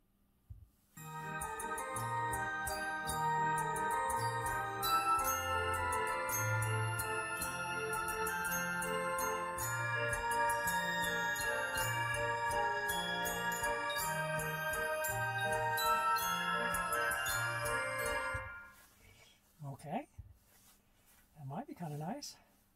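Bright, busy carousel-style organ music plays steadily from a Tesla car's sound effect feature with a bouncing bass line, then stops abruptly near the end, followed by a few faint soft sounds.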